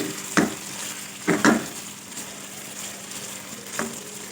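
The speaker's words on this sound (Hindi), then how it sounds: "अब इन मसालों को हम अच्छे से फ्राई कर लेंगे" Spices fry in oil for a chicken masala curry, with a low, steady sizzle broken by a few short stirring scrapes against the pan.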